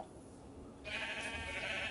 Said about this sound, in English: Found a sheep.